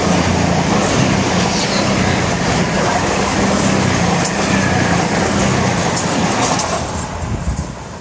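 A train passing close by on a railway line near a seawall, a loud steady rumble and rattle of wheels that holds for several seconds before easing slightly at the end.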